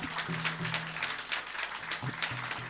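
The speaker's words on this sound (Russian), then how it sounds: "Вот, аплодисменты" Audience clapping at a live concert in a Kharkiv club, moderate and somewhat distant, with brief tonal sounds and faint voices underneath.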